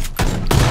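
AK rifle fire in PUBG, a close, loud burst of shots with a short gap before a second sustained volley.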